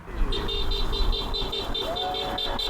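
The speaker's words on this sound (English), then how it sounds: "we've had so many people driving by honking" Passing traffic with cars sounding their horns in a steady series of short toots, over a continuous road rumble outdoors, with faint voices in the background.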